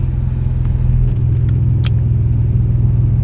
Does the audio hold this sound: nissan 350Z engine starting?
yes